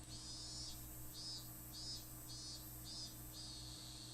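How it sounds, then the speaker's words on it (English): Higurashi cicadas chirp outside on a hot June evening, a faint, far-off series of evenly spaced high trilling pulses over a low steady background hum. "I could hear the Higurashi outside chirping."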